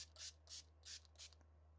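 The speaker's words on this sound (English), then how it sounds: "I'm just going to take a sprayer and on the ink, I'm going to" A hand sprayer mists water onto ink in four quick, close, soft hissing bursts at an even pace, faint over a low steady hum, with no talking.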